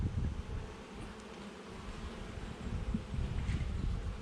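Honeybees buzzing at an open hive in hot weather, a dense, continuous, close-up drone that swells slightly as agitated bees mill around, with no talking.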